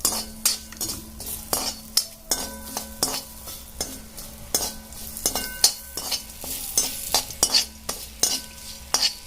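Spices with dagadphool roast in a pan for a village-style chicken curry, stirred with a spoon that clicks and scrapes against the metal in a quick, regular rhythm over a low sizzle, with no talking.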